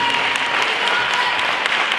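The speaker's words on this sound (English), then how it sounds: "Give him a hand clap as he comes" An audience claps for a speaker coming on stage, a dense, steady wash of applause, loud and continuous throughout with no pauses.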